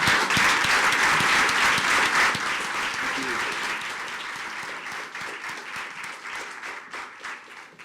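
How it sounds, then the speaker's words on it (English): Audience applause thanking the board at a school board meeting, a full room clapping loudly at first and then gradually thinning into scattered claps as it fades out. "I'm going to give each of you an opportunity with your applause. Please thank our board for their service."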